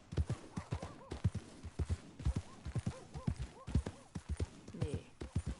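Horse hooves in Red Dead Redemption 2 clop in a steady, rhythmic gait at moderate volume, with a muffled, busy game soundscape running underneath.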